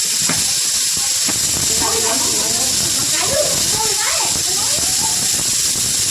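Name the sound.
bay leaves sizzling in hot oil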